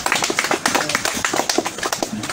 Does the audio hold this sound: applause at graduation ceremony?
yes